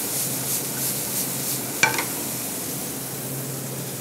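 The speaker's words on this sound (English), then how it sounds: "When cooking onions and garlic, I like medium heat, not high heat." Onions and garlic sizzle gently over medium heat in a steady soft hiss, broken once by a brief clink of a utensil partway through.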